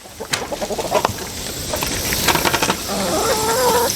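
Chickens cluck and call in short bursts close by, with a longer rising cackle toward the end, over a steady outdoor background.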